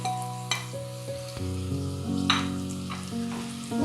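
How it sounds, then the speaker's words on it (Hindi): Onions fry in oil in a frying pan for Lahori bong paye, a steady close sizzle running throughout over a sustained tonal background with a few brief clinks. "और ये प्याज को हम गोल्डन ब्राउन करेंगे।"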